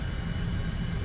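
Aircraft roaring past in the War Thunder flight sim, a steady broad engine rumble and rushing noise at moderate level with no voices.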